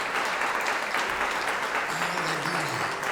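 A church congregation at an evening worship service claps together in a dense, loud, continuous round of applause, with a faint low voice rising underneath toward the end.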